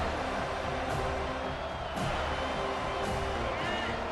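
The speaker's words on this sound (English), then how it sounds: "this crowd will blow out a vocal cord to help this defense" Stadium crowd in EA Sports College Football 25 roars continuously and loudly on third down, with a commentator talking over the dense cheering.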